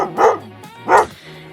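A dog from the Ace Ventura film gives two loud, distinct barks close up, spaced about three-quarters of a second apart, with a low background tone between them.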